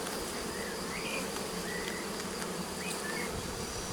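Honey bees buzz in an open hive that is being worked, making a dense, close, steady drone with individual insects whining past now and then.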